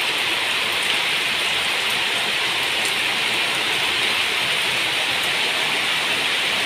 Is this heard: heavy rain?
yes